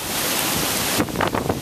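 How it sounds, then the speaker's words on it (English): Strong wind gusting during Hurricane Sandy in Franklin Square, New York, roaring loudly into the microphone and then easing into choppier, uneven buffeting. "Wind is starting to pick up."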